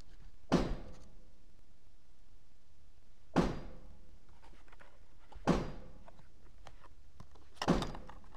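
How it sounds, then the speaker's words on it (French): Four sharp shots from an Arpax 9 mm Flobert revolver fired at silhouette targets about ten metres away on a shooting range, spaced a few seconds apart, each a short loud crack with a quick decay. "On va tirer là quelques cartouches avec ce revolver 9 mm Flaubert"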